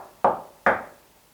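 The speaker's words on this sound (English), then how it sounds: "Can you make a knocking noise like this?" Two sharp knocks on a surface in a pub, the Blacksmiths Arms, sounding close and solid about half a second apart, with quiet decay after each and no voices.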